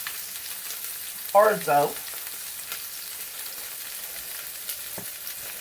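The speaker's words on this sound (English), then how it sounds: "I've added my asparagus and my garlic to the pan that I used to cook the" Asparagus and garlic sizzle in a frying pan that was just used to cook orzo. A soft, steady hiss runs close throughout, and someone briefly speaks over it.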